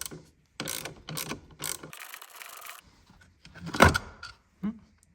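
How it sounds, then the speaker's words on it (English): A ratchet loosens the 10mm bolt on the battery bracket of a Mercedes-Benz E-Class W212, giving several short bursts of quick clicking, then a sharp metallic clack, close up and without talk. "Remove this 10mm bolt that's holding the bracket that is holding the actual battery itself"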